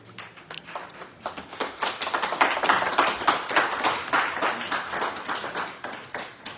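An audience at a Town of Dover mayor and council meeting claps steadily for several seconds, a dense, even patter of many hands that swells in the middle and tapers slightly toward the end.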